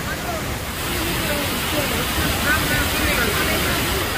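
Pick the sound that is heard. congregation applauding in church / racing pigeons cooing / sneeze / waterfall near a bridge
waterfall near a bridge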